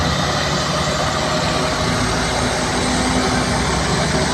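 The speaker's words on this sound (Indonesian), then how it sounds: "Ini truk ultra tunggal ya teman-teman," A Fuso single-axle truck engine labours uphill, a loud, steady, heavy low drone filling the whole stretch without pause.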